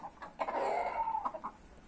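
Village hens and a rooster cluck nearby in a short burst of warbling, throaty calls, moderately loud with no voices over them.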